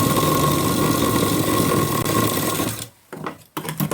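Sewing machine stitching a blouse sleeve joint: a rapid, steady motor whir with fast needle chatter runs close and loud for nearly three seconds, then stops and restarts in a couple of short bursts.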